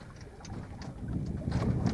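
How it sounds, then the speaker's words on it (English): Wind gusting over a microphone on a solo sailboat at sea, a low buffeting rumble that builds toward the end with faint water and rigging noise, no voices. "We get little gusts, we're just getting a little gust now"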